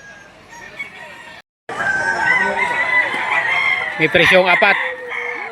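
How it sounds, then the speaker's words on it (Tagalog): Roosters crow and chickens cluck loudly and close by at a morning poultry market in Lipa City, Batangas, amid a busy crowd with people talking over the birds. "Ito ang sitwasyon ngayon sa bintahan ng manok."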